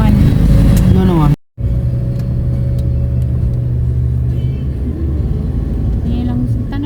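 A motorized tricycle rumbles past close by, its engine steady and loud, with a brief dropout before the drone resumes under faint background activity.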